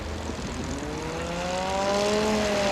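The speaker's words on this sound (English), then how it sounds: "Listen to this Yamaha Apex 300 horsepower turbocharged engine on race 44." A turbocharged 300 hp Yamaha Apex engine on a race plane at an air race drones steadily, a rising tonal whine growing louder as it approaches, with no talk.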